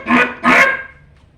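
A person imitates a seagull's call, two loud honking squawks in quick succession that trail off.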